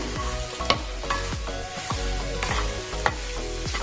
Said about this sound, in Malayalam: ഇനി നമുക്കൊന്ന് തുറന്ന് നോക്കിയിട്ട് ഒന്നുകൂടെ ഇളക്കി കൊടുക്കാം